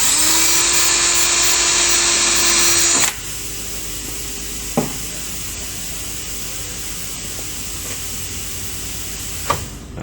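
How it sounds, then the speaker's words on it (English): A power drill whines steadily for about three seconds, drilling a hole for an insect screen rail, then stops; quiet room noise follows, broken by two sharp clicks. "Go ahead and drill that hole."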